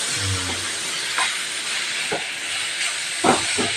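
Fennel seeds hit hot oil in a pan, giving a loud, even hiss that fills the short stretch, with a few faint crackles and a sharper pop near the end.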